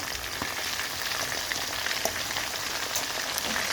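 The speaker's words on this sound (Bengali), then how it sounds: "এগুলো ভাজা হবে দেখাচ্ছি। আর যে এখানে পোলাও বসাইছি, এটা পরে দেখাইতেছি। এই যে এক সাইড ভাজা হয়ে গেছে" Chicken marinated overnight in sour yogurt fries in a pan with one side already browned, giving a steady close sizzling hiss dotted with small crackles and pops and no talking.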